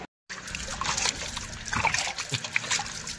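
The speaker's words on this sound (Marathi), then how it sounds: "चिमणी आगली होती तर आम्ही असं पाण्याने धुत होतो" Water is poured and splashed over a motorcycle engine to wash off bird droppings, making close trickling, dribbling and spattering sounds in uneven bursts.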